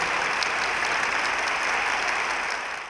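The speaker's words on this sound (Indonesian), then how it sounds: "ya tepuk tangan yang kencang" A television studio audience breaks into loud, sustained applause, a dense wash of clapping that holds steady for a few seconds before starting to fade.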